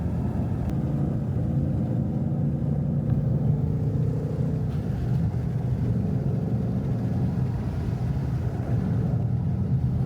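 A car rolls past with a steady low rumble that holds fairly loud throughout, no voices over it.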